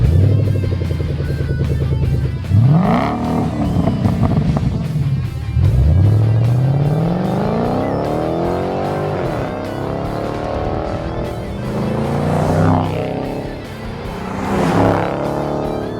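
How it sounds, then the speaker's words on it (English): A 2011 Ford Mustang 5.0 V8 with a Hushpower 3-inch axle-back exhaust revs repeatedly, each sharp climb and fall in pitch rumbling loud and close, with no talking. "Let's hear the first, Hushpower's 3-inch axle-back system."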